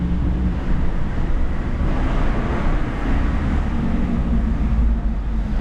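A 2023 Jeep Wrangler Rubicon 392 V8 with its exhaust valve turned off rumbles in a steady, dense low drone while driving, muffled and less throaty, mixed with wind rush throughout.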